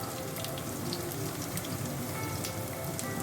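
Chopped garlic sizzles in hot oil with mustard seeds in a pan, a steady close crackle and hiss with fine popping spatters throughout, no voices.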